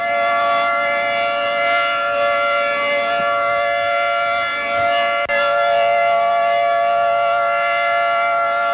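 Tornado civil defense sirens in Fort Supply, Oklahoma wail loudly and continuously, a steady sustained tone filling the whole span with no voices.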